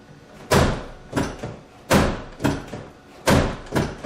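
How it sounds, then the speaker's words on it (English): Driver's door of a 2002-2005 Ford Explorer with a faulty door-ajar switch, swung open and shut over and over: three loud, close slams, each followed by softer latch and hinge clunks, with no talk. "we're simply going to start closing the door and opening it"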